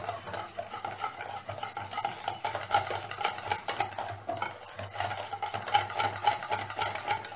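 Dough of flour, water, oil and salt is beaten hard in a bowl, giving a steady, rapid slapping and stirring rhythm that carries close and fairly loud throughout, with no voices over it.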